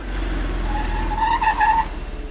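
A car brakes hard to a stop, its tires skidding in a loud rising squeal that lasts about a second and a half over a low engine rumble, with no talking.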